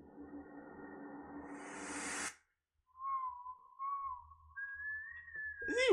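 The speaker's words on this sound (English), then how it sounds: "Is he whistling?" A clear whistled melody starts after a brief silence, wavering tones rising and falling, following a burst of loud, dense music that cuts off abruptly.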